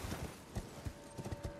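Torrent, the horse in the Elden Ring video game, trots with a quick run of clip-clop hoofbeats in an uneven rhythm, close and fairly quiet.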